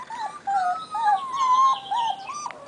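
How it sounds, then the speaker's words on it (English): Young puppies on their first day outside give a thin, wavering howl nearby, the pitch rising and falling across several drawn-out notes, with a second voice joining faintly. "He's the howler."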